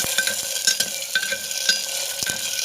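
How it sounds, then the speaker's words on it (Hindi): Meat sizzles and fries in a clay pot karahi as it is stirred, with repeated scraping strokes over a steady close crackle. "अब हम गोश्त को अच्छी तरह से फ्राई कर लेंगे।"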